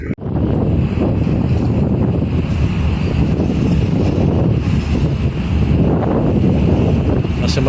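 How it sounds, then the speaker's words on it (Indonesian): Strong wind gusts buffet the microphone at a ferry dock, a loud continuous roar with surging rises and falls and a faint watery rumble underneath, no voices. "karena cuaca anginnya kencang banget nih"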